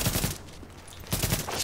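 Automatic gunfire from a weapon in The Division video game, with dense rapid bursts at the start and again near the end, separated by a quieter gap.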